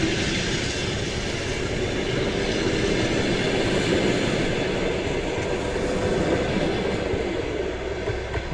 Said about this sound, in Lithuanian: ir jau traukinys juda